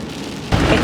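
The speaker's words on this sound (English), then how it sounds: "It's lashing down with rain" Heavy rain lashes down in the UK early on a Saturday morning. The roar cuts in suddenly, dense and loud, after a quieter moment.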